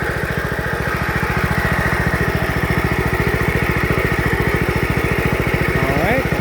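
Gravely front deck tractor engine running steadily in reverse, a close, loud, even low throb with rapid regular firing pulses continuing throughout, with a brief squeal near the end.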